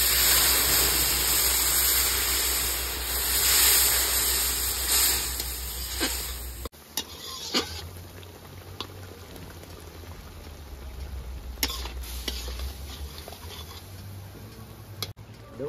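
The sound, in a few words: water added to a pan for macaroni pasta, boiling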